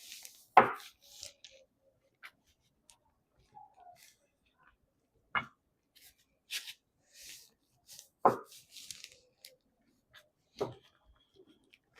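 Beef is cut on a board in a quiet room, giving sparse, sharp knocks and thuds spaced a few seconds apart, with light handling rustles and scrapes between the cuts.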